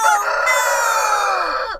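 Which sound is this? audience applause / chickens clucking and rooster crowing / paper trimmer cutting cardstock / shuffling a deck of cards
chickens clucking and rooster crowing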